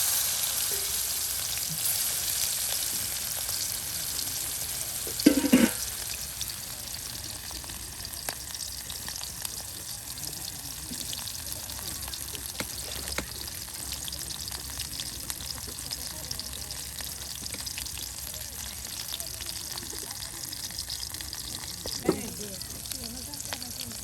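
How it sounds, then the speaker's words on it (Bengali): Pangas fish pieces frying in oil, a continuous bright sizzle with a couple of louder clatters, as a voice talks over it now and then. "দেখুন কত সুন্দর করে এই যে মাছগুলো ভেজে নেওয়া হচ্ছে।"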